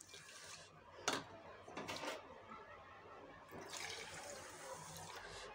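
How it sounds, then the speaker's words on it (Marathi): Water is poured from a bowl over washed moong dal and rice for khichdi, giving close, quiet splashing gushes in short bursts followed by a longer steady pour. "आता मी ह्या वाटीच्या मापाने 3 वाट्या पाणी टाकणार आहे"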